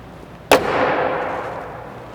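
The door of a 2014 Ferrari F12 Berlinetta shuts with one loud, solid slam that is close by, and a brief resonant tail fades away after it.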